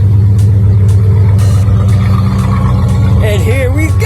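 A classic 1964 Ford Galaxie engine idles in a loud, steady low rumble that holds throughout, while a voice comes in near the end.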